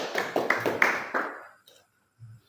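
A classroom group claps during a micro-teaching lesson, a short burst of close, dense hand claps lasting about a second and a half before fading out, with a brief low voice afterward.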